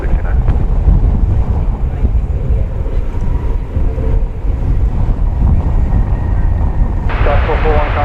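Viva Aerobus Airbus A220 airliner from Monterrey, Mexico, approaching at DFW Airport, a loud continuous broadband roar mixed with heavy wind buffeting on the microphone, with talk over it.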